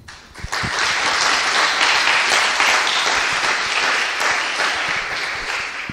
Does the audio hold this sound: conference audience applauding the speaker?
yes